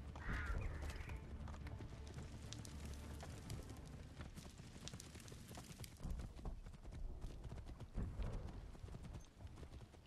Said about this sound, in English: Mount the horse.